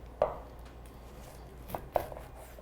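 Three sharp knife strikes on a cutting board, one early and two close together near the end, cutting kernels off an ear of corn for roasted corn and tomato salsa, crisp and close with quiet room tone between.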